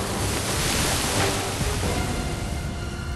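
Water cannon blast from the tail of a Coral Pukei-Pukei in Monster Hunter World: Iceborne, a steady loud rushing spray like surf or wind that fills the whole stretch without pause, alone with no talk.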